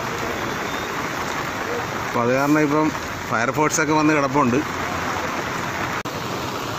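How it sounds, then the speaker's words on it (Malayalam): Heavy rain falls near a bridge as a steady broad hiss, with someone talking over it for a few seconds in the middle. "അപ്പോൾ നല്ല ശക്തമായ മഴയാണിപ്പോൾ"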